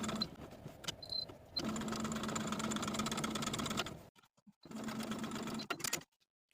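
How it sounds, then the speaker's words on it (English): A sewing machine basting fabric edges runs in steady bursts, a rapid mechanical whirr that stops, starts again, and pauses, heard up close with no talking. "I'm going to take this piece to the sewing machine and baste the top, side, and bottom edge"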